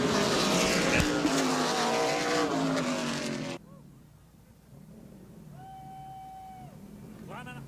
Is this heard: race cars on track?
yes